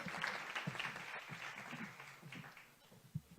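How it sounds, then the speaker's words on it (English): Audience applause at a voter registration campaign launch, a brief moderate burst of many hands clapping that carries on evenly before thinning out. "I would like us to give a round of applause for Ms."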